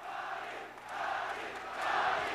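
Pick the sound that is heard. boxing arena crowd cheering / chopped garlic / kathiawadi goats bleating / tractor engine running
boxing arena crowd cheering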